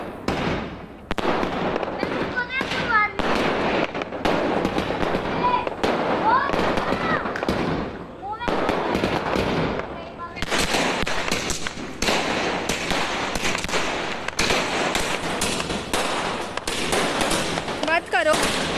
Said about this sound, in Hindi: मुझे तो आकाश में ये जो आतिशबाजी हो रही है